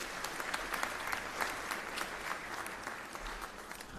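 Graduates at a virtual university graduation ceremony receive a dense, steady round of applause from many hands, continuous and moderately loud throughout with no one speaking.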